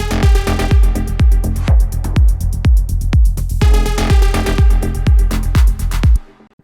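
Simple melodic techno drop for a modern dance track: a punchy four-on-the-floor kick thumps steadily under sustained bright synth chords and a melodic line, loud and full, then cuts off abruptly at the end.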